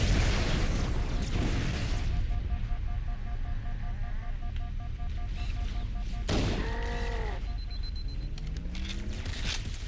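A grenade explosion in the video game Halo CE, a muffled boom among scattered game effects and chirps, moderately loud with no talk over it.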